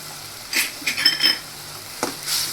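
Colocasia leaf bhaji being stirred in a pan with red chilli powder, a few light metallic scrapes and clinks of a spoon over a faint background hiss.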